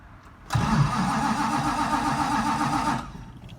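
A 1969 Plymouth GTX engine cranks and fires, settling into a loud, steady idle rumble for about two and a half seconds before it cuts off abruptly, heard up close with no talking.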